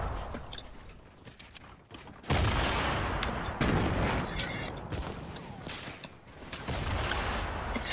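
Repeated C4 explosions in the video game Fortnite, heavy booming blasts that erupt loudly and continue in dense bursts amid chaotic gameplay noise.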